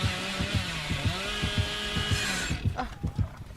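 Dead by Daylight chainsaw revving in-game: a steady, buzzing motor drone pulsing in a fast regular rhythm, loud and continuous, then fading into rougher broken rattles toward the end.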